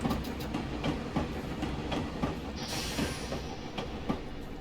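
Rhythmic clickety-clack of train wheels on rails as Metro-North M2 carriages roll past near Stamford, with a brief high metallic squeal partway through.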